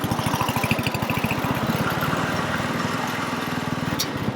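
An old mower or tractor engine runs with a steady, fast, chugging pulse, close and fairly loud throughout with no talking.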